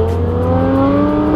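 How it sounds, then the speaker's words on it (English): A Chrysler 300 revs loudly in traffic, its engine note climbing in a sustained, close drone that stays strong throughout, with no talk. "That's something that you don't expect to hear out of a Chrysler 300."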